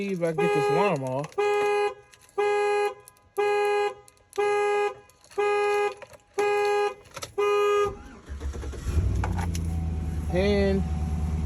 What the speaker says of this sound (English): Let's see if I get this alarm off.